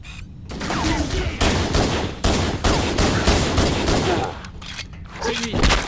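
Dense, loud gunfire in the video game Halo, with sustained bursts of automatic weapon fire filling the scene almost continuously and brief dips between volleys.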